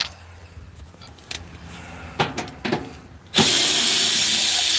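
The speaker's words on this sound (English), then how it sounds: "Let me use the 7/16 drill bit here." A power drill fitted with a 7/16 bit whirs steadily at close range for the last second and a half, after some brief clunks and handling noises.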